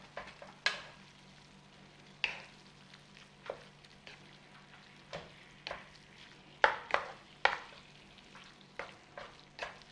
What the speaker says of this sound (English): Get our mince in there, mix it in, get that paste in there and start cooking it all together.